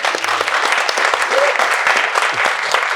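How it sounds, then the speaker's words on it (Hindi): Loud, dense audience clapping for actor Anupam Kher at a live stage event, a thick continuous wash of hands close to the microphone from start to finish, with no voices over it. "चलो एक बार वाली ताली अनुपम सर के लिए।"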